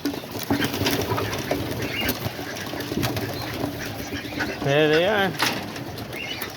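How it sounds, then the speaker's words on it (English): Hungry pigeons gather outdoors with bursts of flapping wings and soft cooing amid rustling, while someone talks nearby. "these pigeons are out here hungry, you know. They're ready to be fed."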